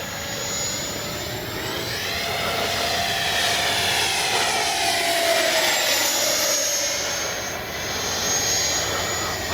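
A Freewing 90mm Zeus RC jet on 6S power flies past, its electric ducted fan whining steadily throughout with a rising and falling Doppler sweep as it circles, fairly loud and unbroken by talk.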